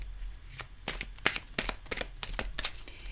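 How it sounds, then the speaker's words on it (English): Slightly glossy Trick or Treat Tarot cards being shuffled, a run of crisp riffling bursts and soft card slaps repeating at an uneven, brisk pace, close up with no talking. "Now for the shuffle test. They shuffle well."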